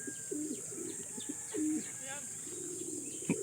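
Racing pigeons on a land training flight coo and chirp outdoors, with soft birdsong and chatter scattered over a quiet background; a person talks faintly at times.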